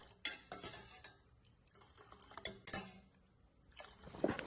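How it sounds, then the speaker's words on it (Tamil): A metal ladle clinks and scrapes against a pot of boiling milk for ginger tea in irregular strokes, close by and fairly quiet, with no talking. "பால் கொதிக்கிற வரைக்கும் கரண்டியால் நாங்கள் பாலை ஆற்றி எடுக்கணும்."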